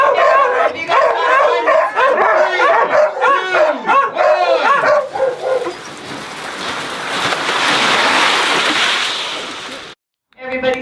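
Puppies and dogs bark loudly in a rapid, overlapping flurry of yips for several seconds, then give way to a rain-like hiss of noise that stops abruptly near the end.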